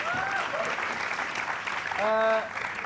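Studio audience at an Indonesian rooftop talk show claps in a steady, dense burst of applause throughout, with voices speaking over it and a brief sung or stretched vocal toward the end.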